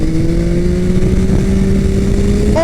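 A 2021 Yamaha MT-09 SP motorcycle engine pulls hard with a steady loud droning tone that rises slightly in pitch, and a quick high rev spike comes at the very end, heard close from the rider's position.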